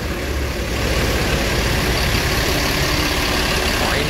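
A Hino Euro 4 Rosalia bus engine idles in a parking area, a steady, loud low rumble that holds constant throughout with no breaks.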